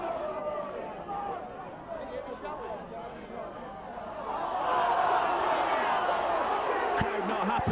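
Rugby league crowd at Bradford versus Wigan, a distant murmuring stadium hubbub that swells into a louder, sustained roar of disgruntled voices about halfway through.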